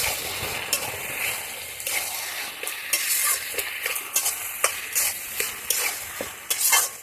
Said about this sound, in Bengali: গরম মশলাটা দিয়ে আবার ভালো করে মিশিয়ে নিই